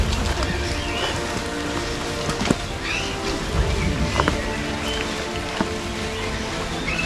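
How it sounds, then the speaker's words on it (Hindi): Rain falling steadily along a green mountain trek trail up Brahmagiri hill near Trimbakeshwar, a dense outdoor wash that swells and eases, with a few sharper drips and knocks and distant birds mixed in. "बारिश है, कभी तेज़ हो जा रही है, कभी स्लो हो जा रही है बारिश।"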